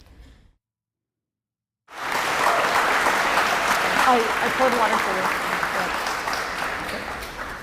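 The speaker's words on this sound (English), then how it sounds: "that was a thunderous applause in comparison to Cambridge" A large audience bursts into thunderous applause and cheering that runs loud and dense for several seconds, after a brief spoken phrase and a moment of silence.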